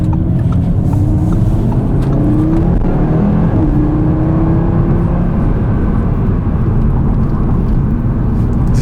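A 2020 Audi RS3 Quattro accelerates hard, its engine and exhaust roaring loud and continuous from the cabin, with rising whirring tones as it pulls through the gears.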